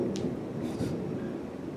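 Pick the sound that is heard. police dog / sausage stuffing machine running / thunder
thunder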